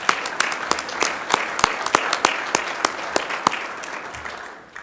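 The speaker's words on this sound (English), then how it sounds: "Just another round of applause for this great panel discussion" An agribusiness panel discussion audience gives a round of applause, with sharp, distinct claps standing out over a softer background of hands, tapering off toward the end.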